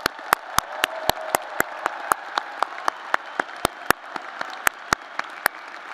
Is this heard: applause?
yes